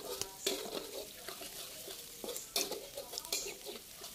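Thinly sliced garlic sautéing over high heat in a pan for fried rice, with a steady close sizzle broken by sharp scraping stirs and clatter of the spatula, no talk.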